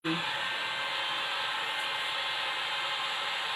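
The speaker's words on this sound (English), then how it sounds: "I'm going to dry this so I can start bringing more colors in." A hair dryer dries fresh paint on a side table during furniture painting, switching on abruptly and then blowing as a steady, even hiss throughout the few seconds.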